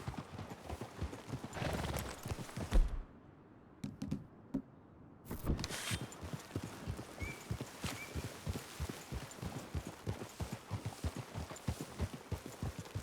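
Horses' hooves clip-clop in a rapid, steady rhythm close by, pausing briefly before resuming, with occasional soft thumps and no voices.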